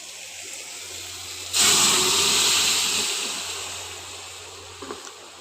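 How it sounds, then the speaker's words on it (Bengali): Curry poured into a hot pan of fried onions bursts into a sudden loud hissing sizzle that slowly dies down, with a couple of small clinks near the end. "এবার তরকাটা ঢেলে দেবো"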